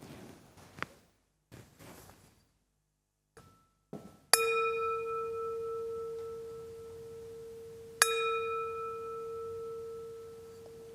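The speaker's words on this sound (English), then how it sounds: "I'll ring the gong 3 times so you can open your eyes when you're ready." A meditation gong is struck twice with a bright metallic hit, each tone ringing out and slowly decaying, in a quiet room after faint soft sounds.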